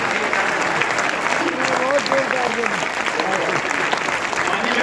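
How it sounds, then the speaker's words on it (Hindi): Loud, steady applause from an audience at a Hindi kavi sammelan poetry recital, dense clapping sustained throughout with faint voices and a brief vocal tone mixed in beneath it. "जरा जोरदार ताली दीजिए"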